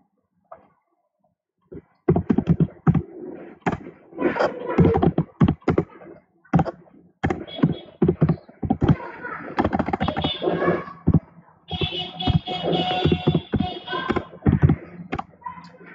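Typing the nmap command on a computer keyboard: bursts of sharp, close keystrokes and clacks in irregular clusters, with short pauses between, and a voice speaking faintly at times.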